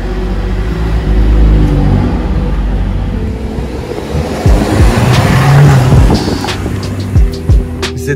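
A Mercedes car pulls away, its engine rumbling loud and close, then revving up as it drives off, with road noise and a few knocks.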